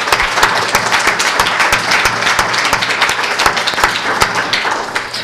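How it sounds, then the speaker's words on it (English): Lecture audience applause, a loud, dense and continuous round of clapping with crisp individual hand claps standing out, holding steady throughout without speech. "give them a big round of applause"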